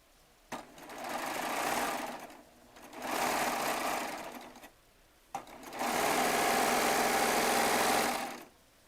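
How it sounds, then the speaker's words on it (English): A Baby Lock Triumph serger stitches a quilt row in three continuous bursts, each a few seconds long, separated by brief pauses, with the steady mechanical whir close and loud and no talking. "I'm going to sew this row together"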